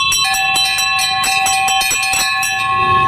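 Many bells clang together without pause at a bell-ringing protest in Gandhi Chowk, Shegaon, a loud, dense, continuous metallic din.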